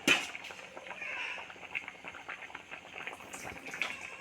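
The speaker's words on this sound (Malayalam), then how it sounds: "നമുക്കൊന്ന് അടച്ച് വെച്ച് ഇങ്ങനെ തിളപ്പിച്ചെടുക്കാം" Tuna curry bubbling in a covered pot, a steady, close simmering hiss with soft popping bubbles, a brief clatter at the start, and no talk.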